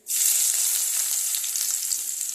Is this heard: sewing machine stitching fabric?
no